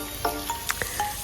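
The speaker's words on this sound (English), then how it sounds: "I put in the red onions, and that sizzling sound is like music to my ears." Red onions sizzle in a slightly heated pan, a loud, steady frying hiss with a few sharp pops and crackles scattered through it, with no talk.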